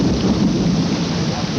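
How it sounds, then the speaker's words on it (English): Heavy rain pours steadily during a thunderstorm in Florida's Everglades, a loud, dense, unbroken roar of downpour with rumbling low thunder woven through it. "The rain has finally returned to Florida's Everglades."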